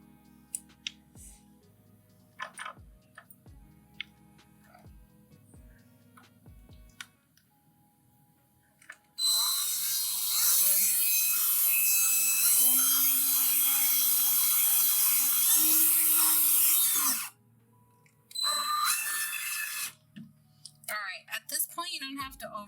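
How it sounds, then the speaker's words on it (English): Electric screwdriver driving screws into mounting plates on a DIY plant table, a loud whining motor run of several seconds with pitch shifts as the screw seats, then a shorter second burst, with talk and light tapping around them. "For this, I'm going to use my screwdriver because it's just faster"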